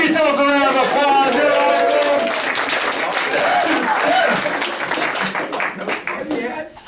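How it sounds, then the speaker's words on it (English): An audience at a presentation skills session claps on cue, a sustained round of applause with voices mixed in, tapering off near the end. "give yourselves a round of applause."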